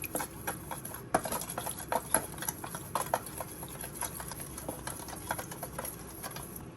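A spoon stirs a salt and water solution in a bowl, giving quick, irregular clinks and scrapes against the bowl over a quiet background.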